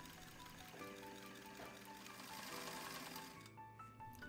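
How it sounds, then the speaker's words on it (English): Sewing machine running steadily to stitch a seam on an Edwardian corset mock-up, a close, continuous whirring hum that shifts slightly in pace before briefly easing near the end. "And now I'm sewing the other half."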